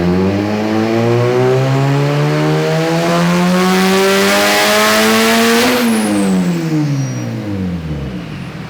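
A turbocharged Honda CRX running E85 revs hard on a dyno, engine pitch climbing steadily for several seconds, then dropping sharply as the throttle closes, loud and close with turbo whine above the exhaust roar.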